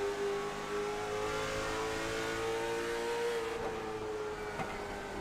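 Race car engines at a historic speedway during a stock car race: a steady, loud droning roar of engines circling at speed, pitch holding high with slight rises and falls, no voices.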